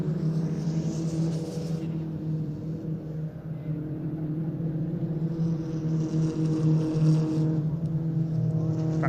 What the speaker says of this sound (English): Over the crossing go the leaders of the Peugeot 206 GTI Cup.